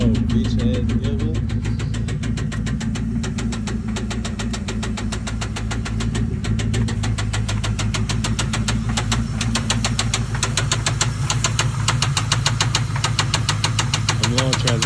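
A 2000 Lincoln Town Car engine running after an engine swap, idling with a loud, steady rapid knocking tick and low rumble throughout, heard close up with voices over it.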